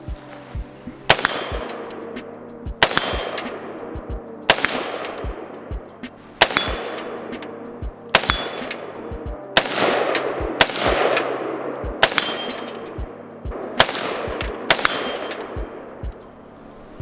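IWI Zion 15 AR rifle fired at a steel tree target 50 yards away, about ten sharp shots in a slow, even rhythm, each crack loud and close, with faint metallic rings trailing some impacts.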